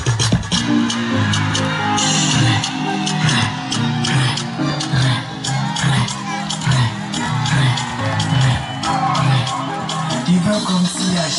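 Audience at a school event applauding and cheering, a loud, dense crowd roar with clapping, whoops and shouts sustained throughout, rising and dipping in waves.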